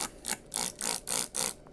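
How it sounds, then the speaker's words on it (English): A hand spray bottle squirts water into holes of seed-starting soil for indoor seedlings, five quick hissing bursts in a steady rhythm, close and fairly quiet with no talk. "Give it a few squirts per hole."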